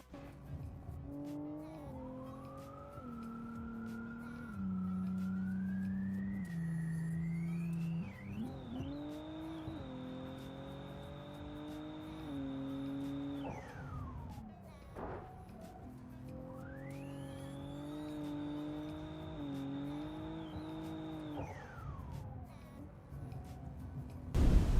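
A game car in BeamNG Drive races along a twisting back road in Tennessee, its engine revving up and down through gear shifts, with squealing tires and rising, high-pitched whine during hard acceleration.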